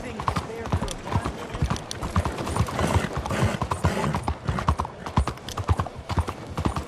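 Horse hooves clip-clop steadily in the video game Red Dead Redemption 2, a continuous rhythmic trot heard close, mixed with background game ambience and voices.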